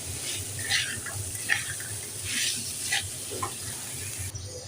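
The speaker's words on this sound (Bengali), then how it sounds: "এবার আমি নেড়ে চেড়ে নেব।" Boiled chickpeas being stirred in fried spice paste in a pan, a soft continuous sizzle with a few scraping stirs, moderately close, with no talk over it.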